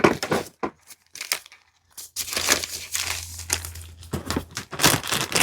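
A plastic bag crinkles and rustles close by in irregular bursts with brief pauses, loud and crisp, with no talk.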